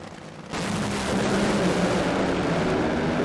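Nitro Funny Car dragsters roar down the strip during NHRA Gatornationals qualifying, a sudden, very loud, crackling engine blast that holds at full intensity after a short quieter lead-in.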